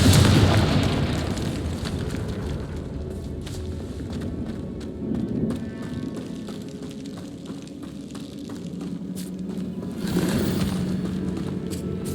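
A Confringo fire spell exploding in the Hogwarts Legacy video game, a loud booming burst at the start that rolls into a crackling, rumbling fiery wash, with a second swell of blast noise near the end.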